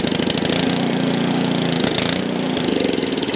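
A rescued, previously abandoned Ariens snow blower's small engine runs steadily, loud and close, with a rough continuous chugging drone throughout.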